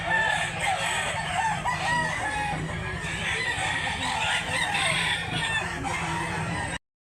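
Roosters crow repeatedly amid clucking fowl at a rooster sale in Mantalungon, Barili, Cebu, a dense, continuous chorus of nearby and distant birds with steady background noise throughout.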